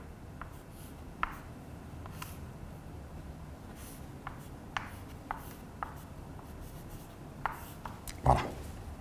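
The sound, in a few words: writing a maths expression on a board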